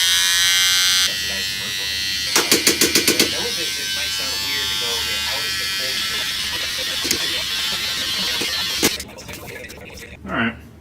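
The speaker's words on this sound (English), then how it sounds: "Time for a quick little shave to trim up the beard." An electric shaver trims a beard, a close, steady, high buzz that runs for several seconds, with short bursts and handling changes and some voice in the background.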